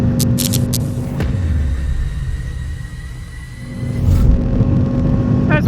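A 1991 Mazda MX-5 NA6 with its 1.6-litre engine revs hard near 7,000 RPM on the Phillip Island circuit, a loud steady in-car drone that sags briefly mid-clip and then surges again with a shift, no talk over it.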